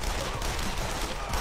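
Dense, continuous gunfire from the video game Yakuza: Like a Dragon, a rapid rattle of many shots blending into a loud, steady barrage with no voices.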